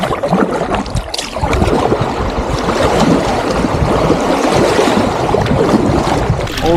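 Paddling a boat on the wide, slow Minija river in Lithuania, with steady wash and splashing water noise rolling on continuously and fairly loud throughout, no voices.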